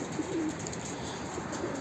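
A pigeon coos softly a few times over a low background hum, short rounded calls close by.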